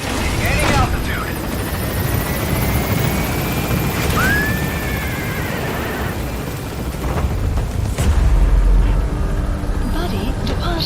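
A helicopter extraction in Metal Gear Solid 5 sounds as a loud, constant rotor roar with engine rumble and a few swelling whooshes, while a radio voice talks over it.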